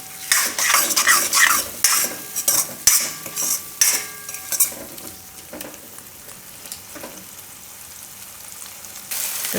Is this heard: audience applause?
no